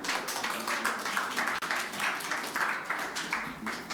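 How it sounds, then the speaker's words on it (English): Sustained applause from an audience at the 2019 Singapore Cup football draw ceremony, a dense, steady wash of many hands clapping that carries on evenly for several seconds without talk. "A round of applause, everybody"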